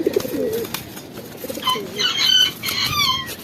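Pigeons coo softly in low, rolling calls close by, including a brown-necked pigeon, followed by higher, repeated chirping bird notes.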